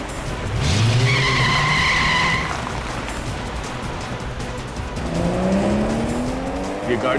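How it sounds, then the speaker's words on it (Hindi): A car speeds off in a crime drama scene, its tires squealing loudly and close, with a sustained skidding screech followed by a rising engine roar as it races away. "ये गाड़ी इतनी तेज क्यों भगा रहा है अचानक?"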